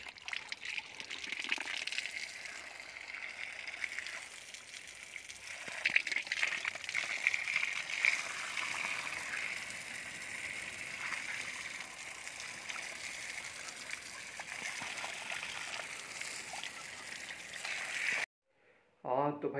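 Cold water pours and splashes steadily while someone washes muddy feet at night during field irrigation in winter, a continuous gushing stream with talk over it, then a brief silence near the end.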